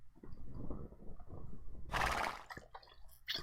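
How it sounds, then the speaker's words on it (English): A horse neighs and its hooves clip-clop as a cowboy rides across a river in the Switch western RPG Boot Hill Bounties, a burst of splashing water in the middle, game sounds moderately loud with no talk. "Doc's now riding his horse across the river,"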